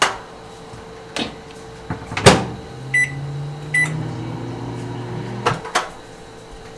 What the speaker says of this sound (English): we're going to put it in the microwave and microwave it for 45 seconds